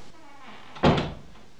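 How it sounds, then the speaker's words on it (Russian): A door is shut once indoors, a single close thud with a brief rattle following in a quiet room. "я просто дверь закрою"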